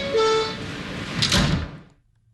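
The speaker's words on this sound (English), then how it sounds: "Stand clear of the closing doors, please." Subway train doors closing, with a two-tone chime, then a rushing slide and thump as the doors shut before the sound cuts to quiet.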